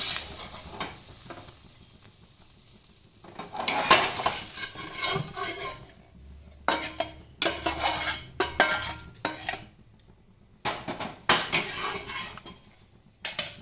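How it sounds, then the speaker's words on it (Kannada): Cooked coriander leaf mixture scooped from a pan into a mixer jar: repeated scraping, tapping and clinking of a metal spoon against cookware in uneven bursts, close and fairly loud, with faint sizzling underneath and no voices. "ಆವಾಗ ನೀವು ನಿಧಾನಕ್ಕೆ ಈ ಮಿಕ್ಸರ್ ಜಾರ್ಗೆ ಹಿಂಗೆ ಹಾಕ್ಕೊಂಡ್ಬಿಡಿ"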